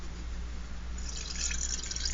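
Vinegar is poured over rusting metal, a continuous soft trickle and splash of liquid that grows a little brighter partway through, heard alone and close.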